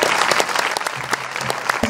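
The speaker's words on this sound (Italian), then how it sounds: "accogliere con un applauso il candidato sindaco del centro-sinistra, Franco Frigerio." Applause from an audience at a centre-left mayoral candidate's team presentation in Laterza, Italy, welcoming the candidate; steady dense clapping throughout, close and fairly loud, with a few sharper individual claps standing out.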